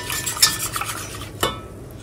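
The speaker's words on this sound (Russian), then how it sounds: "Помешивайте прям вот так вот активно, чтобы обязательно не прилипало к дну кастрюльки." A spoon stirring blueberry syrup in a thick-bottomed saucepan, a few quick scraping strokes against the pan with one louder clink near the end, close and fairly quiet.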